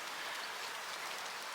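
Steady rain falls as an even, continuous hiss of drops hitting surfaces, fairly quiet and unbroken for the whole short stretch, with no voices over it.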